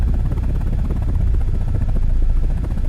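An attack helicopter in a flight game roars continuously with rapid rotor chop, loud and close throughout the short stretch, with no voices.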